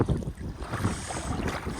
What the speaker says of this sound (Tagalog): Palakas ng palakas yung hangin.